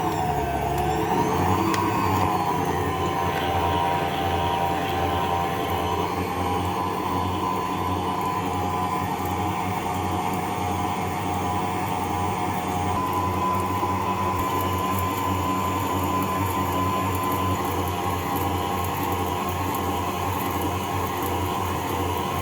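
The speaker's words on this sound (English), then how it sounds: "Just trying to get as much kneading done in the stand mixer before we have to hand knead it." A stand mixer kneads vegan pretzel dough at low speed, giving a continuous steady motor whir with a faint rhythmic churn, loud and close, with no voices.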